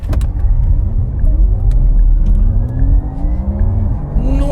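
A Porsche Taycan Turbo Cross Turismo electric wagon accelerates hard from inside the cabin, a loud rising whine climbing steadily in pitch over deep road rumble, continuous for several seconds.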